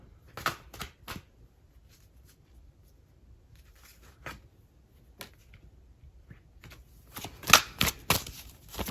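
Tarot cards shuffled and drawn: a few crisp riffles and flicks near the start, sparse taps and slides in a quiet room, then a denser burst of sharp card snaps toward the end.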